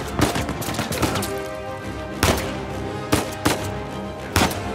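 Gunfire in the action video game Uncharted 4, loud sharp shots coming in irregular bursts, a rapid cluster at the start and then single reports spaced apart over a steady background.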